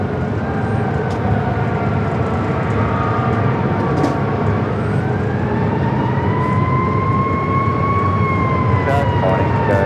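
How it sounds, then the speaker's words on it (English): Emergency vehicle sirens wail near LAX airport during a nearby brush fire, their rising and falling tones drifting over a loud, steady roar of background traffic and aircraft. "Oh, I hear the sirens."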